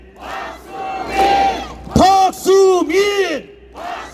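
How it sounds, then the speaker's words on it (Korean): An outdoor campaign rally crowd near Suseo Station in Gangnam chants a candidate's name together, loud rhythmic group shouts with a bold amplified voice leading several repeated calls. "여러분, 박수민을 연호합니다."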